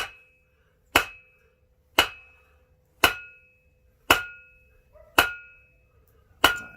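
A hammer strikes a copper bangle on an anvil in seven sharp, ringing blows about one second apart, each with a bright metallic ring that decays quickly, close and alone.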